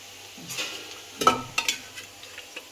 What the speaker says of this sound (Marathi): पुढं तेल आता त्याच्यामध्ये चिकन टाकायचं